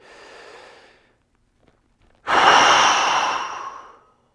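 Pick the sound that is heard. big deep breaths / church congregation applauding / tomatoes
big deep breaths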